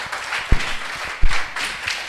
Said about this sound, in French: On se lève et on acclame pour dire merci à l'Éternel.